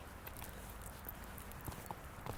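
Soft, fairly faint hoofbeats of a horse cantering on the left lead in a riding arena, muffled thuds in a loose rhythm over a noisy background.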